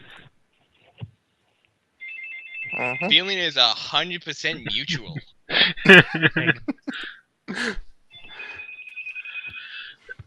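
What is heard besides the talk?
telephones ringing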